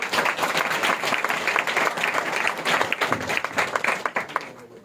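Loud, sustained applause from a church congregation at a Christmas gathering, many hands clapping together in welcome, steady and dense throughout with a slight tapering near the end.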